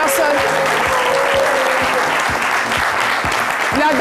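Studio audience on a French midday television show applauds loudly and continuously, dense clapping filling the room for several seconds with faint voices mixed in.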